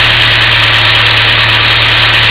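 A car engine idles at a steady, even drone after a vacuum line is plugged, running loud and close with a constant low hum and no speech over it.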